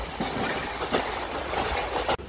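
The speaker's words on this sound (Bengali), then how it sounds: "কোনাক এক্সপ্রেস ছাতারা স্টেশনে প্রবেশ করলো।" Konark Express train pulling into Chhatrapur station, with a continuous rumble of rolling railcars, rhythmic wheel clatter and faint squeal, fairly loud and close.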